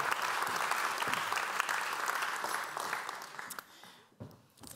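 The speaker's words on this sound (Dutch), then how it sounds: "geef haar een heel erg warm applaus" Warm applause from a theatre audience welcoming a guest at a Dutch political talk evening, a dense steady clapping that fills the room and then gradually thins out and fades.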